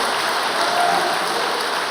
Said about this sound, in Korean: 동의하신 우리 신출신흥 선교사에게 큰 박수 한번 보내주십시오.